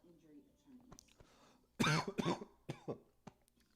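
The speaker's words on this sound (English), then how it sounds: "Not me just casually coughing into the mic." Someone coughs close into a microphone during a football watch party, a burst of several harsh coughs after some quieter throat sounds and breathing.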